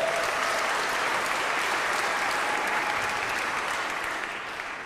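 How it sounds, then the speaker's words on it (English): Sustained audience applause at a Christmas concert, a dense even wash of clapping from a large crowd that holds steady and tapers slightly at the end. "you can clap for that"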